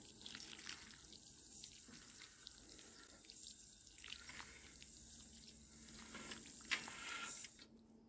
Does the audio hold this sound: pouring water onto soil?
yes